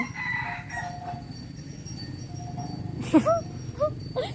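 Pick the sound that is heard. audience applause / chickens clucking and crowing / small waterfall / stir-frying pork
chickens clucking and crowing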